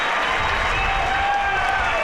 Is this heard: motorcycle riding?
no